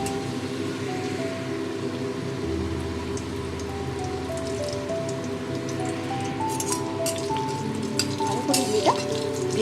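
Ghee fries in a pan with kasuri methi, giving a steady soft crackle and sputter like light rain. Faint tonal background sounds run beneath it.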